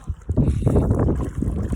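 Strong gusts buffet the microphone with low, rumbling wind noise, mixed with water sounds, for a short moment, out at sea by an island.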